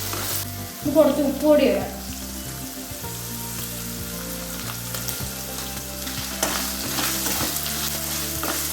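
Grated coconut and curry leaves fry in a pan for chilli beef with a soft, steady sizzle and stirring scrapes under background music, and a voice speaks briefly near the start.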